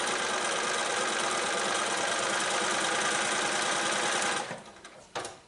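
A sewing machine fitted with a walking foot runs a quarter-inch seam along quilt binding. The motor hums loud and unbroken for over four seconds, then stops abruptly, followed by a brief knock.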